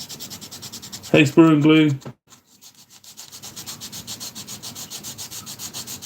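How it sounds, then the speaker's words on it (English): Quick rubbing strokes of sandpaper on a small plastic scale model part of the Long Tom, taking off a fingerprint, a fast regular rasp heard alone at first, then again after a brief spoken greeting. "now I've got a fingerprint on it, so I'm going to have to just quickly sand that down"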